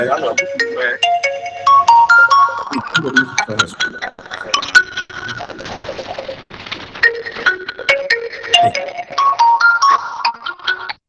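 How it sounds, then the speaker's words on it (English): A mobile phone rings in the middle of a class with a melodic, repeating ringtone that keeps going for several seconds. People talk over it. "somebody's phone is ringing"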